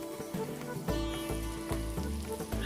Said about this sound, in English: Saute for about 2 minutes until the tomatoes soften completely.